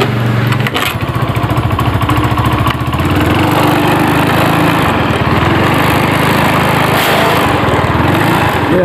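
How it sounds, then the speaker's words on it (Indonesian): A Honda Beat FI motorcycle with a lost-ignition fault being kick-started, its small engine catching and settling into a steady, loud, close idle that continues without pause. "sekarang akan saya hidupkan dengan cara diengkol."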